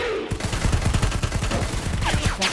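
Rapid automatic gunfire in the shooter Predator: Hunting Grounds rattles loudly and continuously, a dense stream of shots from several weapons at once.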